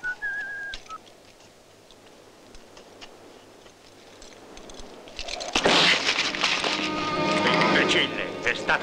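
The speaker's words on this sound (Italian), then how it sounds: "Smettila di fischiare!" Someone whistles a brief, clear tune in an Italian-dubbed western film scene, close and alone at first, before loud crunching and crackling noises take over.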